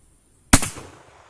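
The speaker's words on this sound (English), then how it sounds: "Man, we are just walloping that poor steel down there with 44 Mag" A single loud 44 Magnum gunshot with a Federal cartridge cracks out at a steel target, its sharp blast decaying into a short ringing echo across an outdoor range.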